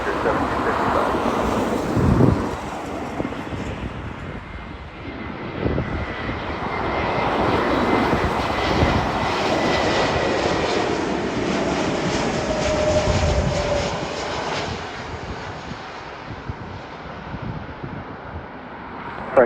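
A Frontier airliner lands on runway 24 right at Los Angeles International Airport, a loud sustained jet engine roar that swells and fades over about twenty seconds, with radio chatter underneath.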